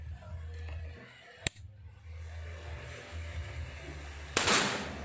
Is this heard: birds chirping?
no